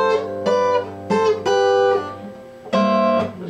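Guitar plucking a simplified intro riff, a few distinct ringing note groups with pauses between, close and clear with no talking.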